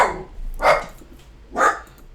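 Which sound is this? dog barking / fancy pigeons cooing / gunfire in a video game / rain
dog barking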